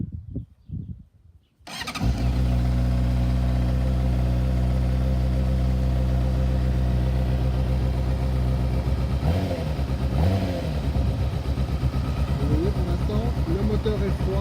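Honda 600 Hornet motorcycle from 2010 with a cold engine, started after a brief lead-in, then idling loudly and steadily at close range with a deep even throb and slight wavering near the end.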